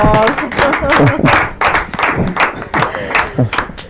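At a gospel gathering, a group claps for a correct answer in a true-or-false quiz, with distinct loud rhythmic claps close by as people talk and call out over them.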